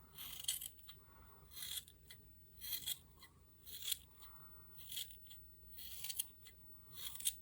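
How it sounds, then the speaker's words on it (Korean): Sharp scissors snip through thick yarn to trim a pompom for a knitted bulky-yarn beanie, giving quiet clusters of crisp cuts in a steady rhythm, close by with no voices. "이렇게 가위로 잘 다듬어 주시면 되고요"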